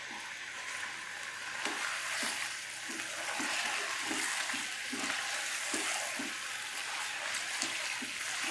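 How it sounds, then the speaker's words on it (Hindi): Chicken pieces frying over a medium flame for biryani give a steady, close broadband sizzle, with soft stirring knocks recurring through it and no talking. "मीडियम फ्लेम पे चिकन को हम फ्राई करेंगे"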